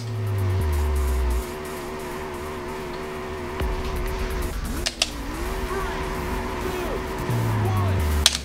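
Race cars launching off the line at the Airport Terminal track in Burnout 2: Point of Impact, engines droning and rising in pitch, with a sharp impact-like crack midway and game music underneath.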